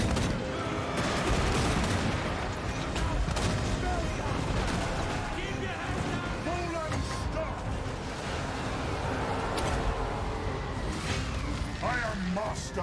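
Massed volleys of troops firing uphill in a fantasy battle strategy game crackle continuously with booming blasts, dense and loud, while voices shout over the din.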